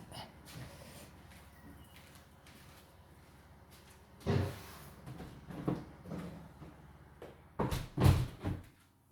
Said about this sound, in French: attendez, je vais fermer ma fenêtre